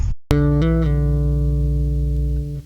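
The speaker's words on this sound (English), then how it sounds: "So that fill by itself sounds like this." A short, sustained plucked bass guitar fill from a song, with a few quick note changes, ringing clearly and alone before fading out.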